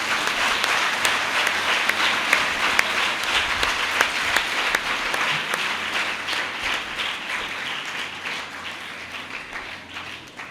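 A church congregation at a Holy Thursday Mass in St. John Catholic Church, Youhanbad, claps in dense, sustained applause that holds steady and eases off slightly toward the end.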